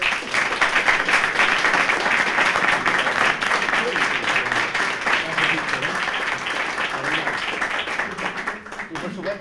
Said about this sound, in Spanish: Por favor, les pido un fuerte aplauso.